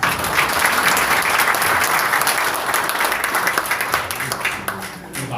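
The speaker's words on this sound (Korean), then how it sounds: "박수로 좀 보내주시겠습니다." At a public hearing in Gwangju, the audience welcomes a commission chairman with loud, continuous applause from many hands, close and full, thinning slightly toward the end.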